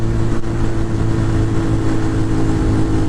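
Kiwi RKF 125 motorcycle, a 12-horsepower 125, accelerating hard through third gear, a steady loud engine drone with a strong low buzz sustained close throughout, no voices.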